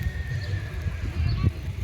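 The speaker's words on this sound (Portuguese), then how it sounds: "Você tá passando e vê um cavalo relinchando." A horse neighing outdoors in a small rural town, a drawn-out whinny rising faintly above a low rumbling background with some muffled thuds, heard at a distance rather than close.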